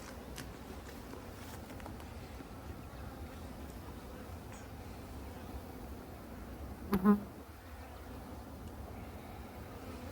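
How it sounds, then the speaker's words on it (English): A dense, steady buzzing of a large honeybee swarm drones continuously, with a brief louder bump midway as something moves nearby. "I brought the big box today because these are a lot of bees"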